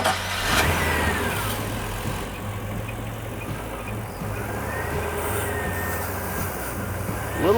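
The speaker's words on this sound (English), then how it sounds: "I'll have Tanya start the engine" A car engine is started and settles into a steady idle while the engine is being fogged, with a low continuous rumble and slight revving changes, moderately close throughout.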